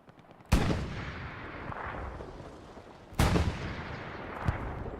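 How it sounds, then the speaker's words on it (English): Grenade blasts and gunfire in the competitive Hell Let Loose war game: two sharp, loud explosions about two and a half seconds apart, each followed by a rumbling decay, with a smaller pop near the end. "Throwing some grenades."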